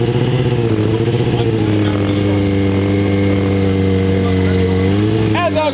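A motorcycle engine drones loudly and close by with a steady, deep tone that shifts slightly in pitch as it passes, then trails off at the end.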